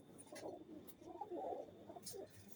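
Soft, low pigeon coos from a caged breeding pair repeat a few times, faint and muffled, with a couple of brief higher chirps in the background.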